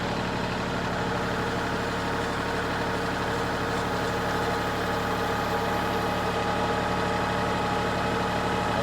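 A tractor engine runs steadily at 1,500 RPM with the brake set, a loud, continuous, even drone that stays constant throughout, with no voices.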